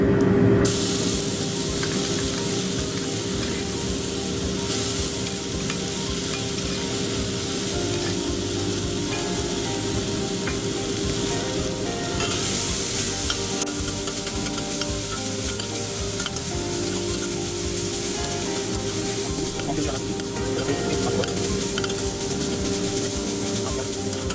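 Garlic and onion paste sizzles and fries in a pan for a Bengali doi murgi, with a steady, dense hiss and occasional stirring scrapes throughout, close and loud with no talking.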